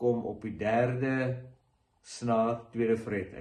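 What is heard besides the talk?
None of the usual background noises is heard.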